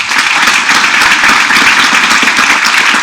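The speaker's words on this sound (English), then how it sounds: "So a round of applause, please, for yourself." A crowd at a fall college convocation applauds themselves, a loud, dense, continuous burst of clapping close by that holds steady for a few seconds with no talking.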